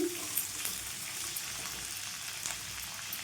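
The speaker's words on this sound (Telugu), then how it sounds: "పచ్చిమిర్చికి అయితే చిన్న ఘాటు పెట్టి వేసేసుకోండి. ఇందులో కొద్దిగా కరివేపాకు. ఇవన్నీ కూడా మంచిగా వేగాలండి మనకి." Green chillies and curry leaves fry in hot oil in a pan for a Telugu boneless chicken fry, giving a steady close crackling sizzle with a few brief stirring scrapes and no talking.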